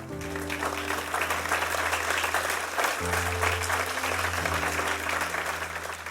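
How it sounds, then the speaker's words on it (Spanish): A church congregation applauds the Lord during a Spanish-language sermon, a full, sustained burst of many hands clapping that stays even and loud throughout, with a low droning tone underneath. "Dale un aplauso al Señor"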